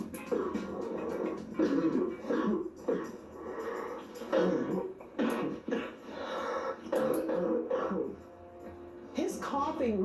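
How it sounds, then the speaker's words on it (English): Deep, throaty smoker's coughing from a man, repeated harsh hacking and throat clearing in uneven bursts, close by and mixed with speech. "His coughing really concerned me. It was very deep, throaty cough."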